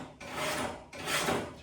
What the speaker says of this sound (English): nothing works like the Warthog knife sharpener